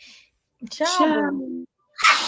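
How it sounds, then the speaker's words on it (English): A single sharp, close sneeze bursts out at the end, after a brief spoken word and a short pause. "That was a sneeze."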